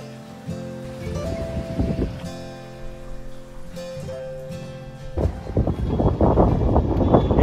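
Strong wind gusting on a rainy monsoon day in Guwahati, Assam, roaring and buffeting the microphone in loud rushing waves that build toward the end.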